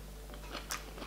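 Someone bites and chews crunchy grilled food close to the microphone, a few soft crunches followed by one sharper crisp bite, over a low steady hum.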